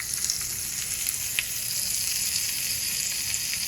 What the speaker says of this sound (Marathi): हिंग घालूया आणि कढीपत्ता आणि सुकी मिरची घालूया आणि छान आपण तडका देऊया